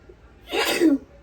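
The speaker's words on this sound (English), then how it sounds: "I feel like I need to sneeze and I can't." A single sharp sneeze bursts out close by, brief and forceful against a quiet background.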